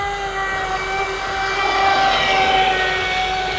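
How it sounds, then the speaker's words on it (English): An RC boat engine runs a full-throttle pass, giving a loud, steady high-pitched whine with layered tones that swells slightly partway through. "This is a full throttle pass."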